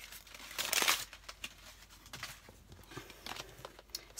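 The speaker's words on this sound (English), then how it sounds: "I'm just going to actually take out the packaging." Plastic packaging crinkles and rustles as two Disney purses from Primark are pulled out of it, a loud burst of crumpling at first, then softer intermittent rustles and taps.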